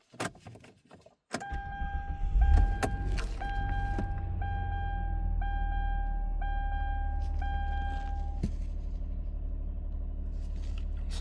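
A Hyundai Santa Fe starts for the first time after water pump and timing belt work: keys and a click, a brief crank, then the engine catches and settles into a steady low idle while warning chimes beep repeatedly.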